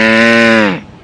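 A boy imitates a buffalo with his voice: one loud, sustained lowing moo that holds steady for most of a second, then drops in pitch and fades out, with no other sound around it.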